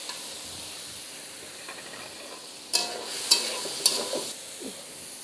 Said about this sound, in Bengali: দিচ্ছি যে গাজর আর ফুলকপি এই রাখা সেগুলো দিয়ে দিচ্ছি।